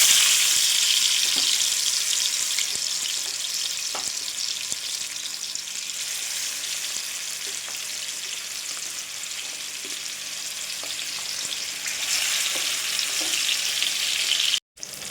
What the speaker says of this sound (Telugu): ఆయిల్ వేడైన తర్వాత ముందే కలిపి పెట్టుకున్న చేప ముక్కల్ని ఒక్కొక్కటిగా వేసుకోవాలండి